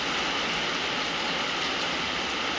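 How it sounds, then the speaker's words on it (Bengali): Steady, dense rain pours continuously as a constant broadband hiss, even and unbroken throughout, with no voices heard. "এত কিরম বৃষ্টি পড়ছে"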